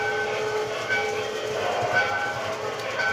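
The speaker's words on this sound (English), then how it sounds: "hold the bell for 3 seconds and you'll hear a whistle toot" An MTH Proto-Sound model train locomotive sounds a sustained whistle over a low rumbling running noise, moderately loud and steady throughout.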